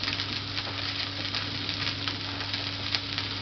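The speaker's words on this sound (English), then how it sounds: "We're going to cook that off for about 2 to 3 minutes on each side, just to make it nice and crispy" A pork fillet sizzles steadily in a hot pan, frying to crispness with a dense continuous crackle and spatter, loud and close with a low hum beneath and no talking.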